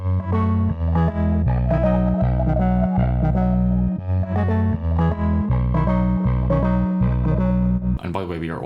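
Layered synthesizer parts run through an Orbit modulation effect with added drive, a dense, distorted, pulsing tone holding steady and loud throughout, with a brief shift in texture near the end.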